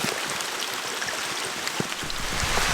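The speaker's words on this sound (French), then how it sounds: "Parce que là il y a une bonne averse" A heavy rain shower pours down outdoors in the forest during a deer hunt in Alsace, making a dense, steady hiss with scattered drops pattering close by, and no voices.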